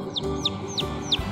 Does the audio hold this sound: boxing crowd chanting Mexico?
no